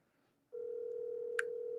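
An outgoing phone call ringing to a wholesaler, a steady, fairly quiet ring tone that begins after a moment of near silence and continues unbroken, with one brief click partway through.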